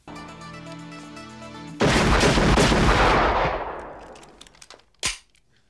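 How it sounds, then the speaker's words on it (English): Blank gunfire in a movie scene: after a musical passage, a loud dense burst of rapid shots rings out for several seconds, then fades, and one last sharp shot follows. "These guys are shooting blanks, so they do simulate the real recoil of a firearm"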